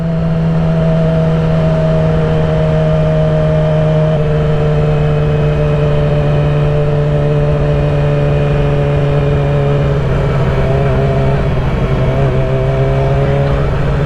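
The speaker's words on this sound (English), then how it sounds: "Seems like, bro, there's hella cars leaving." Cars pulling out of a Cars & Coffee meet, steady engine drone and whir from nearby vehicles with rising and falling tones as they drive off, loud and continuous with no talking.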